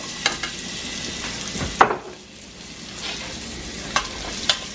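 Celery and other vegetables stir-frying in a pot for chicken soup with pasta, giving a steady low sizzle with a few soft stirring clicks and scrapes, close and continuous with no talking.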